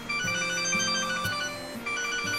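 A phone ringtone plays a repeating electronic melody with a bouncy bass line, steady and clear at moderate volume, with no talking over it.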